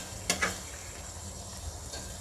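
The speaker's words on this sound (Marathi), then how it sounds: "तूप करताना मोठ्या बारीक फ्लेम ठेवायची आणि भांडं मोठं ठेवायचं कारण ते काय होतं तडतड तडतड उडत राहतं" Soft, steady sizzling with a couple of brief scraping clicks near the start, like a spoon stirring homemade ghee simmering over a low flame in a large pot.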